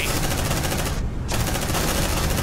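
Marines' suppressive gunfire in Aliens: Dark Descent, a dense, loud rapid automatic barrage that cuts out for a fraction of a second midway and then resumes, with no talking.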